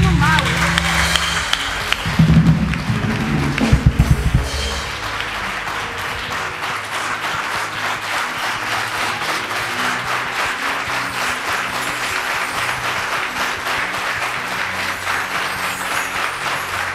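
Church congregation clapping and cheering during a Sunday worship service, with loud crowd applause and voices, strongest early then settling into steady continuous clapping with singing or talk mixed in.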